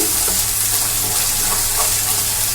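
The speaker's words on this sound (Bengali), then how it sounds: "পেস্টটা এবার আমি তেলেতে কিন্তু সুন্দর করে কষে নিচ্ছি" Spice paste for paneer masala frying in oil in a pan, a steady broadband sizzle that runs close and unbroken throughout, with no voices.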